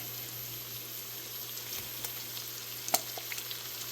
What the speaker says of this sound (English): now let's go ahead and get the shrimp in